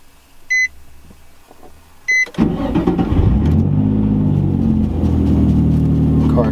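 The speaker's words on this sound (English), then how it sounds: "So let's see, turn the ignition, comes on." A Nissan 350Z with an aftermarket head unit: two short electronic chimes, then the engine cranks and catches, settling into a loud, steady idle close by.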